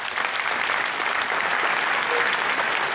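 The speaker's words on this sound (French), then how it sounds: "Nous pouvons applaudir Jésus, notre Seigneur." An audience in a church applauds, a dense, steady wash of many hands clapping at once that holds evenly, with little voice over it.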